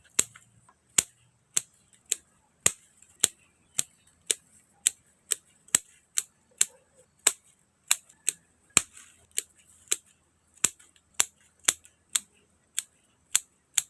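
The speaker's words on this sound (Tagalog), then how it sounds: "Gamit nga rin itong gunting, magba-branch selection na rin tayo." Pruning scissors snip the branches of a tugas bonsai being shaped into semi-cascade, giving a long, steady series of sharp, crisp clicks about twice a second, close and distinct against near silence.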